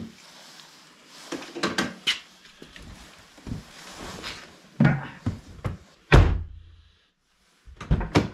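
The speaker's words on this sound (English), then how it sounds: "one broken door handle repaired" Driver's door on a 2010 Ford Fusion with a repaired handle is worked, handle clicks and latch rattles followed by sharp thunks of the door shutting, several separate knocks spread across a quiet background.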